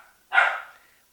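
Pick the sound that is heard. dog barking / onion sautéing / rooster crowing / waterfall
dog barking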